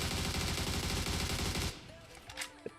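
Rapid automatic gunfire from a reduced-recoil weapon in the PUBG Mobile video game: a dense, rhythmic burst of shots lasting under two seconds, then a sudden stop with faint scattered sounds after it.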